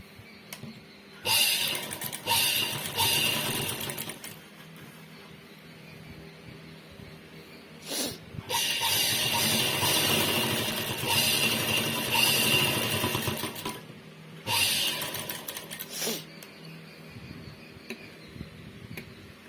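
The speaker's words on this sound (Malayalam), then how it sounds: "ഇനി ഒരു 1/4 ഇഞ്ച് മാറ്റിക്കൊണ്ട് ഒരു തയ്യലൂടെ കൊടുത്തേരെ" A sewing machine stitches a blouse, running in several bursts of steady mechanical whirring and ticking, separated by short pauses.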